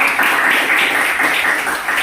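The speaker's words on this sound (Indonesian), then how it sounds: "Tepuk tangan buat temannya dulu ya." Students in a classroom clap for classmates who just answered, a dense, even patter of hands lasting about two seconds, close and moderately loud with no voices on top.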